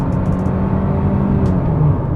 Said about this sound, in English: like a lot of CVTs, it gets quite loud at the top end.